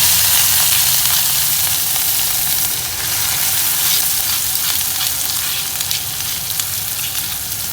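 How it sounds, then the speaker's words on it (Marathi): Crushed spice mix with asafoetida and turmeric sautés in hot oil for pahadi dal, a loud, dense, continuous sizzle with light stirring scrapes, close up and without any talk. "आपण ठेचलेला जो मसाला होता तो ह्याच्यावर छान आपण परतून घेणार आहोत"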